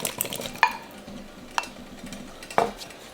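Chopped tomatoes and potatoes dropped into a pot of vegetable soup, three distinct thuds and clatters spaced about a second apart with faint stirring between, close and fairly clear with no talking.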